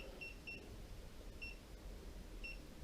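Short electronic beeps from a Xiaomi Mi Electric Scooter Pro 2 during setup chirp in pairs, repeating about once a second, fairly faint over a steady low background hum.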